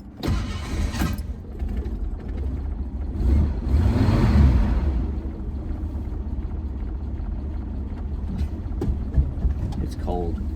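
Cold car engine with an ill-adjusted choke after major engine repair, running rough and uneven, a low rumbling idle that swells and surges midway, steady and close throughout.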